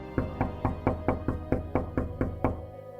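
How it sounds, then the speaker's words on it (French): A door rattles under a steady run of about ten firm, evenly spaced knocks, close by and loud, with nothing else heard between the raps. "À midi, on toqua à ma porte."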